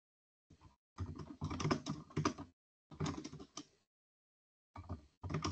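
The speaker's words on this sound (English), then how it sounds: "Let it type the keyboard fast." Rapid bursts of typing on a computer keyboard clatter close by, dense key clicks in several runs separated by short silent pauses.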